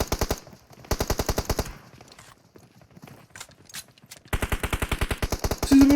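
Video game gunfire on a hide-and-seek map: rapid automatic bursts in rhythmic volleys, a long burst, a pause with scattered faint shots, then another sustained burst, loud and close with no talking.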